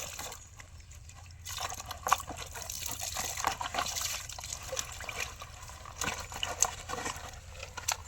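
Water poured over mutton leg pieces to wash them in an outdoor village kitchen, a continuous splashing trickle with sloshing bursts and no talking.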